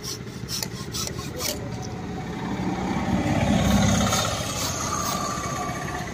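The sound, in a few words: cutting with a hand saw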